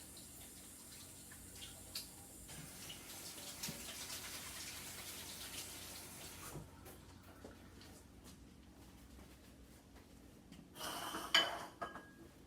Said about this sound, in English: Wash my hands because I always have to wash my hands after I mess with meat.